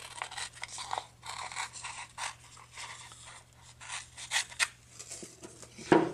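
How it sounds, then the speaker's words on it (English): Scissors cutting out a Prima rub-on foil design, a run of soft, close snips and papery scraping strokes at an irregular pace, quiet and alone, ending with a sharper click. "So I'm going to go ahead and cut this out."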